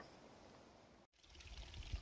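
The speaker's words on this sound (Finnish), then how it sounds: "Taas puro virtaa täällä." A forest brook trickling along a woodland trail on rocky terrain, a soft, steady burble of water heard faintly from a short distance, briefly cut off partway through, with no voices.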